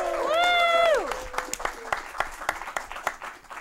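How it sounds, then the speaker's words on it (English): After a brief sustained voice, scattered claps from a small studio audience ring out in an uneven sequence of distinct, fairly close hits, with faint chatter underneath. "we need to have a special round of applause"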